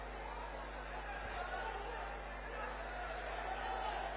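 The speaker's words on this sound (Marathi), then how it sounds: "इथे बरीच गर्दी झालेली आहे." A large crowd at a Raj Thackeray rally murmurs and chatters continuously, with scattered voices and faint laughter over a low steady hum from the sound system.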